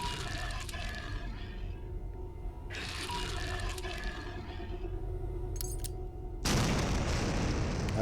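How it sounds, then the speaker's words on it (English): A frag grenade blast in the video game Paracom erupts near the end as a sudden loud, broadband burst over steady rumbling game ambience, following quieter rustling and ticking sounds. "Use another frag grenade."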